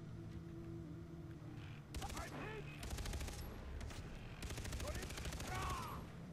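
Bursts of automatic gunfire in Far Cry 3 come in two loud clusters of rapid shots after a quieter start, close and sharp, with faint voices under the noise.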